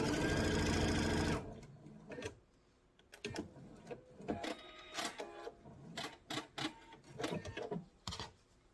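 A home sewing machine stitches fabric strips end to end for a table runner, a loud steady whir at first, then short stop-start bursts of stitching.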